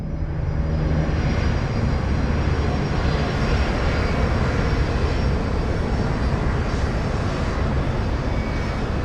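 Steady, loud drone of an airliner cruising at altitude, the Crossair Flight 3597 plane's engines forming a constant dense roar with no change throughout and no talk.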